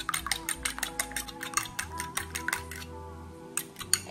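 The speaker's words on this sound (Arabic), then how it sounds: "غادي نخلط هذيك البيضه مع نيسكافي" A whisk or spoon beating an egg with instant Nescafé coffee in a bowl, rapid rhythmic clicking strokes against the bowl with a short pause before resuming, close and clear, no talking.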